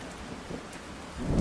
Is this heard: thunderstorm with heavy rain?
yes